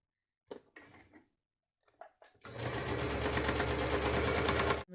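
A sewing machine stitches along dress fabric for a child's ball dress, running steadily and close up for a couple of seconds after a brief stretch of talking and a few small handling sounds.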